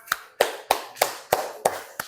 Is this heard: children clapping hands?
yes